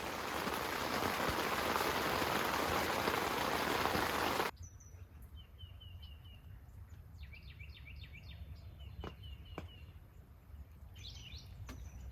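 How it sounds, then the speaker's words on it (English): Heavy rain and strong wind lash a campsite at night in a loud, steady roar for about four seconds, then cut off abruptly to a quiet backdrop with scattered bird chirps. "that is way more rain than yesterday and that wind is really intense"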